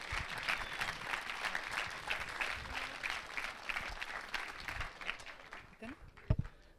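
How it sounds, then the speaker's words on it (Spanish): Audience applause for speaker Alejandra Dellagogna at an IPCVA Punto de Encuentro event in Rauch, a steady dense patter of many hands clapping that fades near the end, with a few louder claps and a voice emerging at the close. "Fuerte el aplauso para Alejandra Lagoña"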